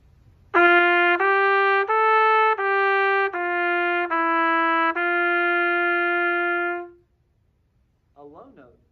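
Cornet played across its typical range, sustained notes in a sequence of steps from about 0.5 to 7 seconds, close and clear, with a brief voice after.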